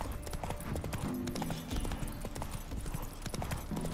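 Horse hooves clip-clop steadily on the ground as the horse Roach moves in The Witcher 3 video game, a close, continuous rhythm of hoofbeats.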